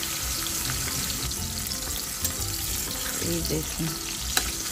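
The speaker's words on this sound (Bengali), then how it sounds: "এবার আমরা এইভাবে আলুগুলোকে একে একে ছেড়ে দিচ্ছি, ভালো করে ভেজে নেবো।" Salted potato halves fry on high flame in hot oil for Bengali mutton kosha, giving a loud, steady sizzle with a couple of small clicks and a brief spoken voice over it.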